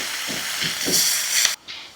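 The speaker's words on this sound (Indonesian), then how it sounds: "Tumis pucuk labu. Masukin pucuknya." Pumpkin shoots dropped into a hot wok with oil for a stir-fry, giving a loud hissing burst of steam and spatter that swells and then cuts off abruptly, without speech.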